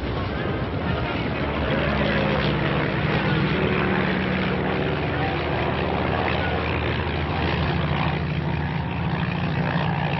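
A 1940s propeller airplane engine warms up, producing a loud, steady droning roar that fills the whole clip with no pauses, with muffled voices partly under the noise.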